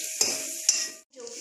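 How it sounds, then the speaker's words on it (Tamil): Chopped onion stirred and sizzling in a frying pan for a masala pasta, with close scraping strokes and steady hiss that briefly drops out near the end. "ப்ரௌன் ஆகிற அளவுக்கு இதை வதக்குங்க."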